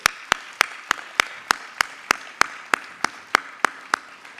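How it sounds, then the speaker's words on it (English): Rhythmic clapping in unison at a school promotion celebration for Year 6 and Year 9, crisp regular beats about three per second, loud and close against a quiet room. "Give them another round of applause."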